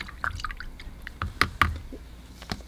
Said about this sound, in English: I just empty my water container.